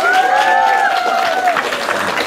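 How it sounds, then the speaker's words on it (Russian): Audience applause at a children's choreography contest, a burst of clapping and crowd noise under a sustained sung or announced tone that fades after a second and a half. "Ваши аплодисменты"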